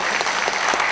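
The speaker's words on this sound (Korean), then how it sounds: "박수 한번 주시죠" Audience applause at a book launch, a dense steady burst of many hands clapping at close range, filling the whole short moment with no voices over it.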